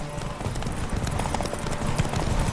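Roach, Geralt's horse in The Witcher 3, gallops with steady, fast hoofbeats close by, set against a busy game soundscape with a faint voice.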